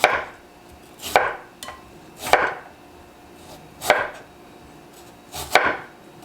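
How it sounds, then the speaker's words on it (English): Knife chopping an onion on a cutting board for Cajun smothered potatoes, heard as five separate bursts of quick cuts spaced about a second apart, close and clear against a quiet background. "So I'll take this knife and just cut that up like that"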